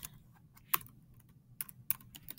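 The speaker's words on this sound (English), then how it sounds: "So I want to type in Google Chrome extensions." A handful of sharp, separate key clicks from a computer keyboard, spaced unevenly across a short quiet stretch, close and fairly crisp with no voices.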